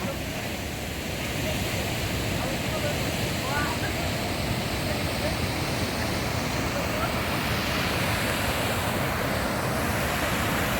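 A steady, dense roar of a waterfall in Bueng Kan, Thailand fills the whole stretch, constant and fairly loud, with faint voices barely audible underneath.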